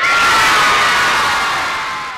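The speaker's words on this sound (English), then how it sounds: "I want y'all to sound off loud and thunderous radical" A large crowd at a Vacation Bible School event at Fort Meade shouts "radical" loudly and thunderously in unison, a sustained roar of mixed adult and children's voices that slowly fades.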